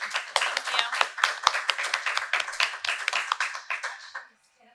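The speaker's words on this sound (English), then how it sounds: "Can we give them a round of applause?" Board meeting attendees clapping, a small group producing distinct, fairly close hand claps in an uneven rhythm for about four seconds before stopping abruptly.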